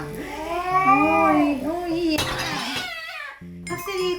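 A cat yowls in protest while being groomed, letting out several drawn-out, wavering meows close by, with a few brief clinks and a pause between cries.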